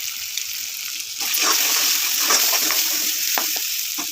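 Ginger and tomato frying in a pan for a red dal, a steady close sizzle that grows louder after the first second, with faint stirring and no voices.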